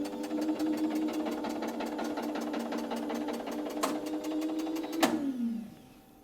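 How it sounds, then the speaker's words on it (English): An electric motor charges a circuit breaker's spring during a Megger EGIL200 breaker test, whirring steadily and loudly with a rapid regular pulse and a sharp click near the end before winding down. "I put B10E to motor, and I'm going to run the motor."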